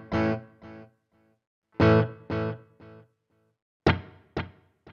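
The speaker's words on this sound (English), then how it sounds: "we've defaulted to a digital mono delay. We are at stock settings, and it sounds like this." Electric guitar played through a Fractal digital mono delay at stock settings: three loud, distortion-tinged phrases of strummed or picked notes, each followed by fainter repeating echoes that trail off, with no talking.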